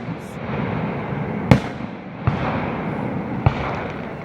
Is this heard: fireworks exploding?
yes